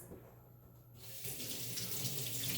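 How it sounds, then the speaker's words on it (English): Water streams steadily from a kitchen tap into a sink during hand washing, growing louder and fuller after the first second as the flow strengthens, with no talking. "Y'all hang on, I got to go wash my hands."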